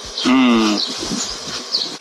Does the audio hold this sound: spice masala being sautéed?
no